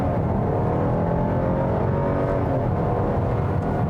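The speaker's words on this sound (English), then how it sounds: "Let's see if I can actually get it to spin a little bit. We'll brake torque it." Engine of a 2021 Buick Envision ST SUV revving steadily while held on the brake, a continuous loud low drone that rises slightly and holds for a few seconds with no talking.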